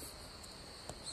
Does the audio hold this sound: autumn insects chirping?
yes